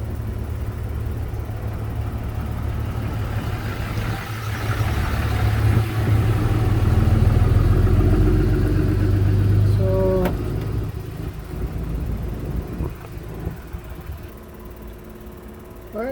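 A 2004 Sprinter 2.7-litre diesel engine idling with its high pressure fuel pump running: a steady close mechanical drone that swells briefly in the middle and then settles back, with a small metallic tap near the end.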